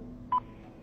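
A single short electronic beep on a voicemail recording, a clear steady tone lasting a fraction of a second over faint line hiss.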